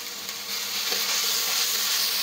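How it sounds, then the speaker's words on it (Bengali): Ground coriander, cumin, salt and ginger-garlic paste fry in a pan, giving a loud, close, continuous hiss that swells slightly after the start. "মশলাটা ভালো করে কষাই নিই"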